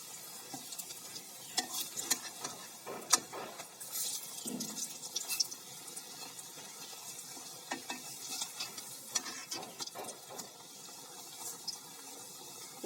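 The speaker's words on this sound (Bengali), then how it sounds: "কিন্তু আমরা লাউ পাতা দিয়ে ভাজি করে দেখলাম" Bottle gourd leaves fry in a pan with a soft, steady sizzle, broken by scattered stirring scrapes and light clinks, heard close but fairly quiet.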